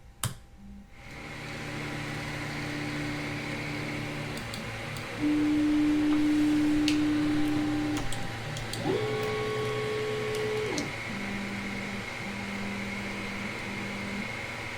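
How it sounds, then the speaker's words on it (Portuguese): A 3D printer homes all its axes after a G28 command, its stepper motors whining in steady pitched tones that shift and step between moves, loud and close over a constant fan hum. "Observe que a impressora vai fazer homing no exato momento que eu pressionar Enter."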